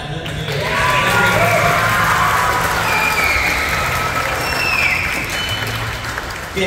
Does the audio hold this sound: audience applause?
yes